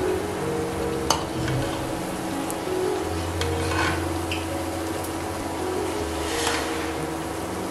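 Balushahi sweets fry in oil over a low gas flame, giving a steady, even sizzle throughout, with a few faint clicks and light stirring sounds and no talking.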